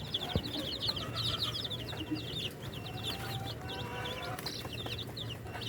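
A batch of incubator-hatched chickens clucks and chirps in a busy, continuous chorus of short repeated calls, close by, over a low steady background hum.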